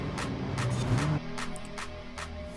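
In Forza Horizon 5, a 2022 Ford Focus ST's engine and exhaust note, using the Hoonigan Focus sound, revs up then drops as the driver shifts, with quick bursts of acceleration close and loud.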